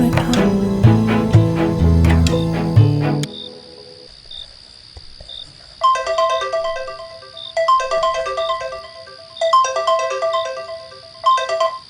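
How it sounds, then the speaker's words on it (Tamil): A mobile phone ringtone plays loudly up close, a repeating electronic melody in regular bursts with short gaps, preceded by a few seconds of louder musical tones. "ஏய் ப்ளீஸ்டா, ஃபோன் எடுறா."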